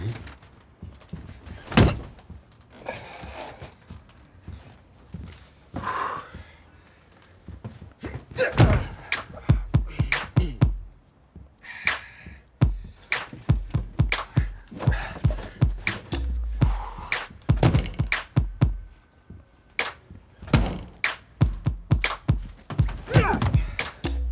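Locked door being repeatedly pushed and rattled, with a series of loud thumps, bangs and knocks in irregular bursts, close by, interspersed with brief talk.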